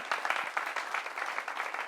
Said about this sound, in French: Applaudissements pour notre expert.